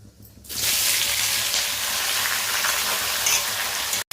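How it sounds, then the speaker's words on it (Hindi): Loud, steady sizzling as spices hit hot oil while tempering for a Bihari-style mutton curry, a continuous frying hiss that starts abruptly and holds for several seconds, with a brief clink near the end. "तो उसके लिए मैं अभी छौंका लगा दे रही हूँ।"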